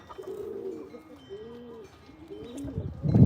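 Several doves coo in low, repeated rounded phrases, fairly close, with a louder burst of rustling noise at the end.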